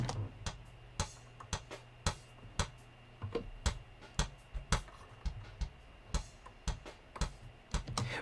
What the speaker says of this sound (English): the kick in is very clicky